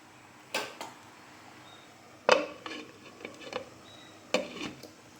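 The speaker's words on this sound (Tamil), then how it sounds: "இப்போ மூடி போட்டுரும்" A lid goes onto a pot of fish curry with a few separate metallic clanks and rattles, close and fairly sharp, over quiet kitchen background.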